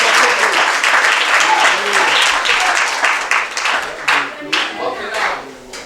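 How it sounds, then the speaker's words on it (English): An audience at a senior high school homecoming in Ghana applauds loudly and densely, the clapping thinning into scattered claps toward the end. "Clap for yourselves one."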